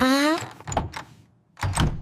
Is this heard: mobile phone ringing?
no